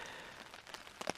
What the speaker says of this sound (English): It's raining lightly